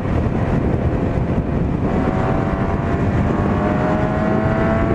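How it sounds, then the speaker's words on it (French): A steady engine drone with heavy wind rush from a CB1000R motorcycle ridden at speed in the United States; continuous and loud with no voices. "Et ma moto, c'est une CB1000R"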